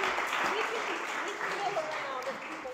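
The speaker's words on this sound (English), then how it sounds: "let's give a round of applause for our speakers here" Audience applause for the speakers at the close of a Farm Bill session: a steady, moderate wash of clapping held for the whole stretch, with faint voices mixed in.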